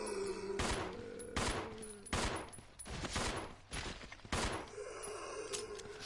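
Gunshots from the video game Resident Evil 0 HD, a series of about six loud, sharp blasts spaced roughly a second apart, each followed by a short ringing tail, with no talk over them.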